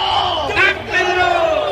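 A large rally crowd at a Gwanghwamun protest gathering shouts a slogan in unison, two loud chanted bursts rising over steady crowd noise.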